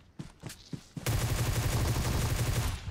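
Groza assault rifle firing in PUBG Mobile: a few scattered single shots, then a sustained loud automatic burst that runs without pause for nearly two seconds.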